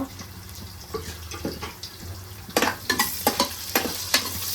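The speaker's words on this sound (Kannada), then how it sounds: "ಇದನ್ನ ಚೆನ್ನಾಗಿ ಫ್ರೈ ಮಾಡ್ಕೊಳ್ಳೋಣ ಗೋಲ್ಡನ್ ಬ್ರೌನ್ ಬರೋ ತನಕ" Chopped onions frying in oil in a pan for biryani, with a steady sizzle under repeated scraping stirs that grow louder and more rhythmic in the second half; no voices.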